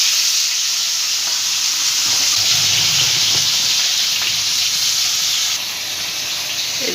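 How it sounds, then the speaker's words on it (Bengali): Fish coated in mustard oil frying in a pan, giving a steady, loud sizzle with dense spattering hiss throughout, continuous and close, with no talking. "আর মাছ তো খুব ফোটে"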